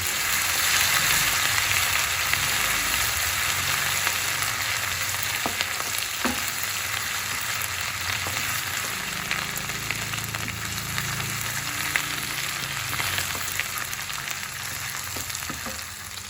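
Cumin, ginger, garlic and green chillies frying in a pan, a loud continuous close sizzle with faint scraping and stirring sounds, no voices.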